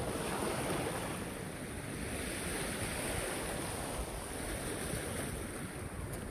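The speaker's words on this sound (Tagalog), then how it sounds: "Lakas ng alon, oh." Steady roar of Red Sea waves and surf on the Jeddah coast, continuous and fairly loud, with wind blowing across the microphone throughout.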